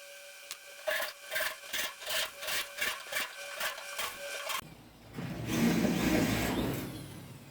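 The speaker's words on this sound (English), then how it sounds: "Grind this niceness down a little bit" Metal on the cab corner of a 1969 Ford F100 being worked over: several close rhythmic scraping strokes give way to a loud, steady, harsh grinding roar that fills the rest of the stretch.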